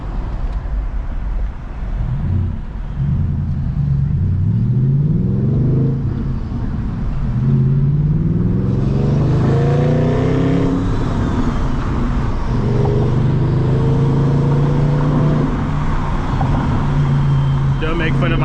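A car engine drones loudly from inside the cabin, its pitch climbing and dropping through several gear shifts during a test drive after coolant repairs, while someone talks over it.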